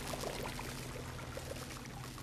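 Steady stream of water pouring in BioShock, a continuous broadband wash with faint bubbling, even and close throughout with no talk.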